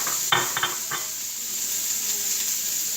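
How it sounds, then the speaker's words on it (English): Onions and carrots sautéing in oil in a pan give a soft, steady sizzle, with a few brief utensil stirs and clinks near the start and no talk. "first thing we want to do is we want to saute our vegetables, which we have onions, carrots,"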